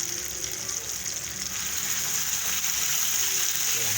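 Onions frying in a pot while being stirred into carrot soup, a steady broad hiss of sizzling with soft scraping, close and continuous throughout.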